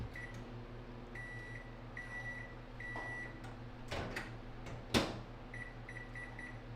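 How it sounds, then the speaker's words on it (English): A nearby microwave oven hums steadily, with a series of short electronic beeps repeating through the clip and a couple of louder knocks or clatters near the middle. "Dude, I hate that microwave already."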